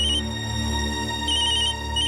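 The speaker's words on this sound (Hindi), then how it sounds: "अरे सूर्य कमल, तुम्हारा फोन बज रहा है।" A mobile phone rings with a bright, repeating electronic ringtone, heard close and fairly loud for about two seconds with no voices over it.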